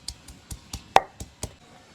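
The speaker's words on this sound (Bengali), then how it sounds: "প্রথমে রসুনগুলো একটু ছেঁচে নেব" Garlic cloves are crushed with a series of about seven evenly spaced, dull knocks over two seconds, one louder thump in the middle, heard close and alone.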